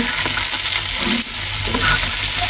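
Tomato, chopped onion, green chilli and spices fry and get stirred in a pan for a village home-cooked dish, a steady close, loud sizzle with scraping stir strokes throughout and no voices.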